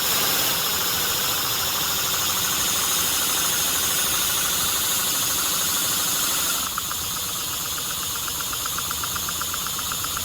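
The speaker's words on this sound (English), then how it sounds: "Listen to that idle." A small inline four-cylinder model engine, driven by compressed air from an air compressor, idles with a steady rapid knocking pulse, close and constant, shifting slightly in tone partway through.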